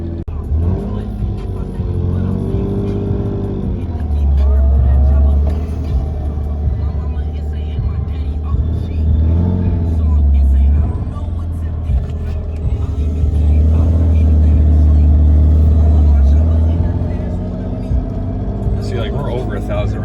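A Lexus SC300 engine idles high after a cold start, a deep steady rumble that swells and eases in long waves, close to the microphone.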